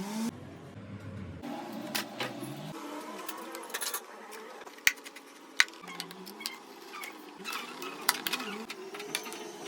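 A sewing machine stitches fabric in a home setting, its fast mechanical ticking and whirring running in bursts with a few sharp clicks throughout.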